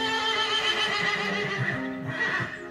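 A horse whinnies in a long, wavering neigh, clear and fairly close, trailing off toward the end with faint hoof sounds beneath.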